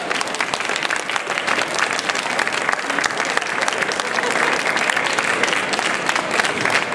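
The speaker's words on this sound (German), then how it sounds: "Ein Applaus für die Herrensahne." Audience at a comic illustrators' event applauding, dense continuous clapping from many hands filling the room, loud and steady throughout with no break.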